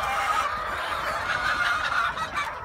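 Laying hens in a poultry shed cluck and murmur as a dense, continuous flock chatter, steady and fairly loud throughout with no talk.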